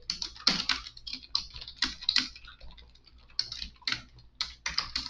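Typing on a computer keyboard: a close, steady patter of light key clicks arriving in short bursts with brief pauses, in a quiet room with no talking.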